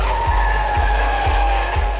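Chevelle tires squeal and skid repeatedly in a car chase, four sharp low bursts evenly spaced over a steady loud engine roar, close and intense with no talk.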